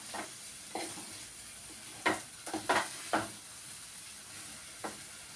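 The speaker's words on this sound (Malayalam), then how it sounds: "നല്ലോണം ഇളക്കി കൊടുക്കണം കേട്ടോ" Beans are stirred in a hot pan, with a steady soft sizzle of frying under scattered scraping strokes of a spoon, close and fairly quiet.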